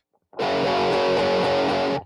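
Heavily distorted electric guitar rings out in a dense sustained chord for under two seconds, loud and close, playing a riff shape from a rock song.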